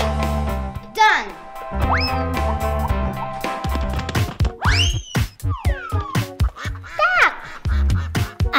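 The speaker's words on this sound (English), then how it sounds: "Duck." A toy duck quacking during kids' block play, with repeated squeaky quack-like calls scattered among a child's and adult's chatter and thumps of toys.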